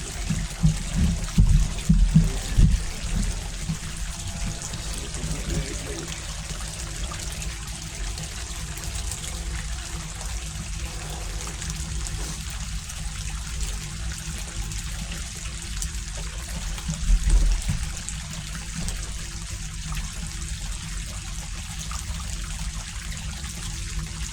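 Water carrying river sand runs steadily through a gold sluice, a continuous close trickling wash that goes on alone for the full stretch, with a few brief clunks.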